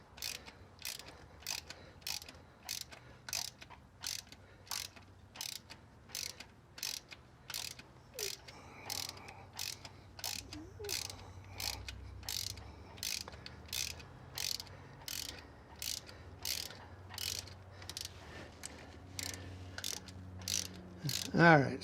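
A ratchet slowly loosening a long-thread spark plug on a Nissan Pathfinder engine, a steady series of sharp, evenly spaced clicks repeating throughout, close but fairly quiet, with faint background rustling.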